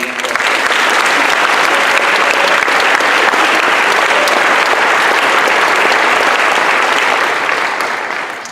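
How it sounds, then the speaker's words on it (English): Sustained applause from an awards-night audience honouring students and their student council advisor, a dense, steady wash of many hands clapping that holds for the whole stretch and tapers slightly at the end, with no talk over it. "So a round of applause certainly for all these folks."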